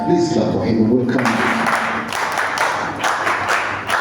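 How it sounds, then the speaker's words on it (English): A crowd at a KCCA stadium construction event applauds as the Minister of Works arrives, with steady moderate clapping after a brief bit of speech at the start. "Please clap for him."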